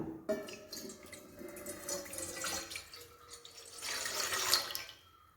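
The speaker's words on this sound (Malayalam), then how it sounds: "ഞാനിവിടെ ഒരു ഗ്ലാസ് അളവിലാണ് കേട്ടോ വെള്ളം എടുത്തേക്കുന്നത് അത് ഒഴിച്ചു കൊടുക്കാം" A glass of water poured into a cooking pot, a steady splashing, trickling pour that swells toward the end, fairly faint and close with no talking.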